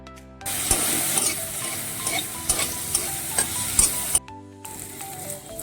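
Tomato and green chillies dry-roast in a hot pan, giving a steady close sizzle broken by several sharp scraping stirs before the heat cuts off abruptly, then resumes more quietly; no one speaks.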